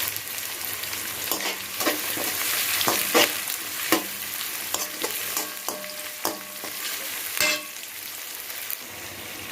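Tomatoes with a pinch of salt sauté in a pan for paneer bhurji, a close, steady sizzle punctuated by frequent scraping and tapping stirs of a spatula, with no talking.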